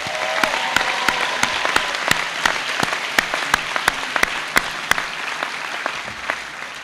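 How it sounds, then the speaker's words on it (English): Applause from a graduation ceremony audience at Lawrence High School, steady and broad throughout, with sharp individual claps standing out near the front and no voices over it. "How about a round of applause for that?"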